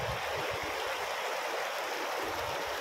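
A river stream at Real Quezon flows steadily with a continuous close rushing and gurgling of water and no voices.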